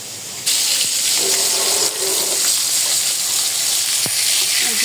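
Pieces of katla fish frying in oil in a pan: a loud, close sizzle bursts in after a moment's quiet and keeps hissing steadily, with faint occasional clinks.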